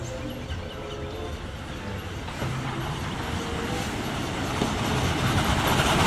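A Thomas-themed train rolls past with a steady clickety-clack of wagons over rail joints, a continuous rumble that grows gradually louder toward the end, with no voices.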